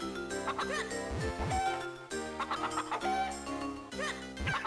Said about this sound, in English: I have this chicken right where I want him.